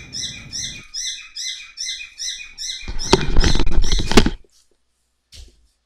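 Pet birds chirping in a room, a rapid run of bright repeated tweets up close, followed by a burst of rustling and fluttering, then near silence.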